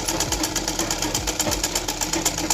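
A sewing machine runs steadily while stitching a blouse hook strip, its needle thumping in a fast, even rhythm close by with no one talking.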